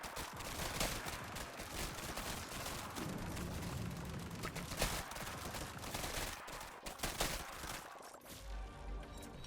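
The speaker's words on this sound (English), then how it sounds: "The explosions do so much work now." Rapid bursts of explosions and gunfire crackle continuously in Grind Survivors, layered into a dense, chaotic barrage of game combat sounds.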